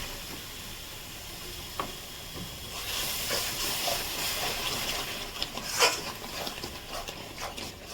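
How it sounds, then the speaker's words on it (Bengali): Tomato paste fries with spices in a pan for mutton curry, giving a steady hiss and sizzle that swells after a few seconds, with occasional clinks of stirring over a soft, continuous background. "টমেটো পেস্টটা দিয়ে দিচ্ছি কিন্তু"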